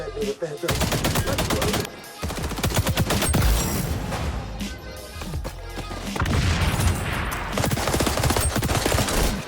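Gunfire in the shooter game XDefiant, with dense rapid bursts of automatic fire and sharp single shots crowding together loudly for nearly ten seconds, a voice faintly mixed beneath.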